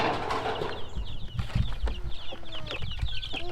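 Baby quail chicks peep and cheep while pecking at food, a busy cluster of small chirps with light scratching and fluttering, fairly close and alone without talk.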